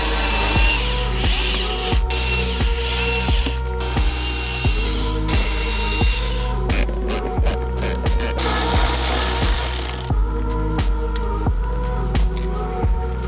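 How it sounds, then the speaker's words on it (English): A power screwdriver removes T20 screws from the air filter housing of a Skoda Fabia 1.2 TSI, in repeated short whirring bursts with clicks and ratcheting between them, close and loud. "So I'll remove these screws and we can get it out."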